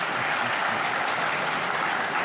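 Audience applause at a spiritual discourse gathering at Siddhpeeth Hathiyaram Math, a steady, dense wash of clapping that fills the whole moment at close range without pause.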